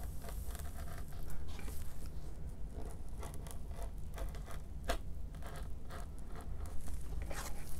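Scissors cut through fabric for a summer sewing project, making a continuous close crunchy snipping and scraping texture with sharp bursts of blade closing over a low room hum.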